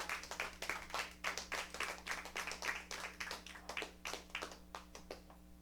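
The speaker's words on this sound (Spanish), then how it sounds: "Dan un aplauso al Señor por usted." A church congregation claps steadily in a quiet hall during a worship service, with many hands beating in a rhythmic, fairly faint patter that carries on for several seconds before tapering off.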